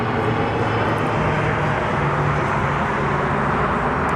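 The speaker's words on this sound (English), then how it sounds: "Airplane." Fixed-wing airplane passing overhead in low light, a broad steady roar of jet or engine noise filling the whole clip, loud and continuous with no talk over it.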